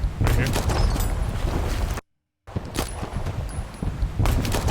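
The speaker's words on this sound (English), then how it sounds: "I didn't even hear this gunshot of this enemy the first time." An enemy's gunshot sits inside a dense video game sound mix, with sharp bursts of gunfire mixed among loud, busy effects. The sound cuts out briefly to silence and then resumes.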